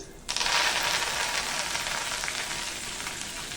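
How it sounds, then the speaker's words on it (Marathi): Mustard seeds and cumin crackle in hot oil, tempering for a cluster bean dish without onion or tomato; a dense, loud sizzle bursts in suddenly and holds steady with fine popping, no talking. "थोडी मोहरी थोडे जिरे याची छान फोडणी करून घ्यायची"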